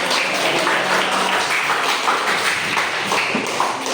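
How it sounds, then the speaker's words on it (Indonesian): A classroom of students applauds together in dense, continuous clapping, loud and close, sustained evenly for several seconds. "Kasih tepuk tangan dulu yang ingin mencoba."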